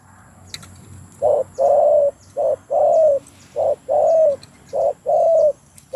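A spotted dove coos in a clear repeating pattern, short notes alternating with longer drawn-out ones, close and loud over a quiet outdoor background in the forest.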